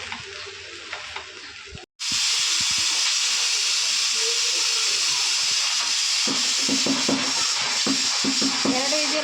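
Oil hisses and sizzles loudly as a masala dosa with onion cooks on a hot pan over a gas stove, a quieter stretch then a sudden strong, sustained frying hiss close up, with someone talking over it.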